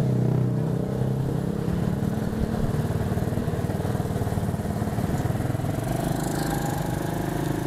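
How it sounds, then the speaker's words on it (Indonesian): A 125 cc diesel automatic ATV engine running close by, with a loud, steady, fast-pulsing chug that continues without a break and no one speaking over it. "Nah, karena ATV diesel 125 cc ini matic, jadi kita tinggal gas saja ya."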